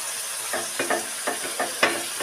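Dry spices mixed with water in a bowl hit hot oil in a pan while cooking cabbage, sizzling steadily under several short scraping stirs, close and fairly quiet.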